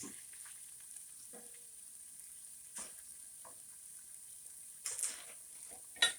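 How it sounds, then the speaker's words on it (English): Onions caramelize quietly in a pan for a homemade chili, giving a faint, low sizzle. A few sharper clinks and scrapes from stirring stand out near the end. "let the onions caramelize a little bit"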